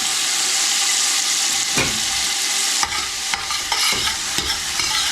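Chopped leeks sizzle and fry in heated olive oil in a pan, a steady close hiss broken by several sharp clatters of stirring, with no talking.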